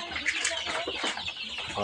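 Flock of 27-day-old farm chickens clucking and chattering together, a busy, moderately faint mix of overlapping calls.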